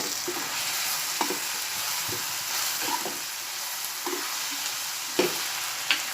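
Tomato, onion and green chilli frying in a pan give a steady close sizzle, with occasional soft scrapes and taps of a stirring spoon and no talking.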